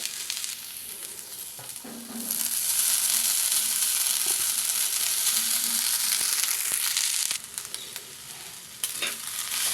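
Ponnaganti leaves and cooked rice frying in ghee, a bright steady sizzle with scraping stirring strokes, louder and fuller through the middle before easing off, with no voices.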